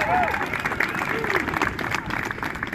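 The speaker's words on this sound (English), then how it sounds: "Can we all applaud?" A rally crowd applauds outdoors at an activist event in Northampton, a burst of clapping that fades unevenly while voices carry over it.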